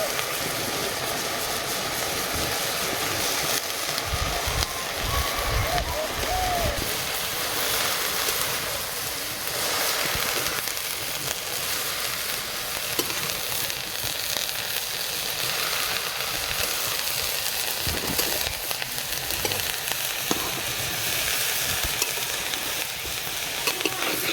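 Bottle gourd leaves and whole chillies sizzling steadily in a hot pan with shrimp, a dense continuous frying hiss with occasional stirring, close and unbroken by talk.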